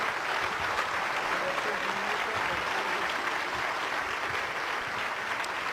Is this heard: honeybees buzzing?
no